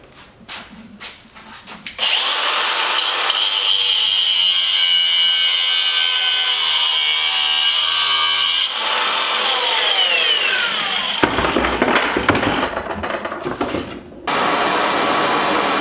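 A power tool cuts through material on a workbench with a loud, sustained high whine for several seconds, then shifts into rougher, uneven grinding before starting up again near the end.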